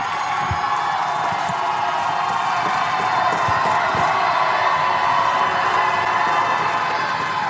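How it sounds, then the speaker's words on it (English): A basketball crowd in a gym keeps up a steady, dense roar of cheering and shouting during a free throw, loud and sustained with scattered whoops. "Here comes the crowd."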